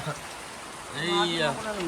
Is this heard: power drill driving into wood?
no